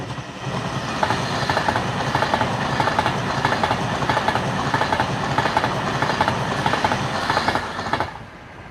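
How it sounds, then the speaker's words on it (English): A slow Pendolino passenger train of 11 carriages rolls past outdoors, a steady loud rumble with rhythmic wheel clatter that holds for about eight seconds before dropping away sharply at the end. "Here comes a very slow Pendolino."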